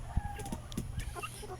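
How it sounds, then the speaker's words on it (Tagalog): Native and heritage chickens at a coop in Lapu-Lapu City, Cebu, give a few soft, scattered clucks at moderate distance over quiet outdoor background noise. "andito na tayo sa ating manukan"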